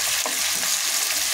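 Onions and green chilies frying in a pan, a steady broadband sizzle with faint stirring scrapes throughout, close and continuous with no talk.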